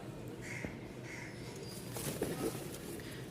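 Domestic pigeons, racers and flying breeds kept for sale, coo faintly in a couple of soft, low phrases against a quiet background.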